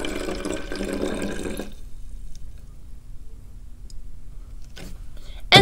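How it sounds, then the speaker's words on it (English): Measured vinegar pours into a plastic bottle for a chemistry demonstration, a brief soft liquid splash lasting under two seconds, then near silence broken by faint knocks and a short voice at the end. "we're going to take the vinegar that we measured and we're going to pour it into our plastic bottle"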